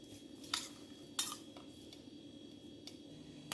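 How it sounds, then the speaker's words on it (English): Raw mango pickle is mixed with a spoon in a quiet room, giving a few faint, sparse clinks and scrapes of metal against the container. "So better you mix it with a spoon"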